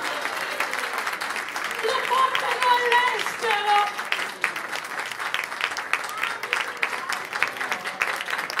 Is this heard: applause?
yes